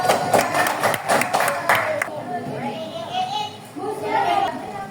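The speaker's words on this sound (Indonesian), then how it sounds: "tepuk tangan sekali lagi untuk mereka berdua" Schoolchildren in a classroom clap in a quick burst of sharp hand claps, then the clapping gives way to children's chatter and an adult voice.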